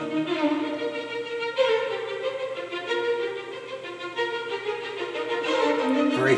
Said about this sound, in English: quick-moving allegro with the main theme